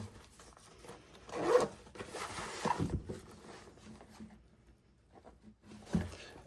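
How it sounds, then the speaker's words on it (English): An EDC bag pocket zipper is pulled open and closed in a few short, close raspy bursts, with quiet handling between them. "In our zipper, we have a lighter."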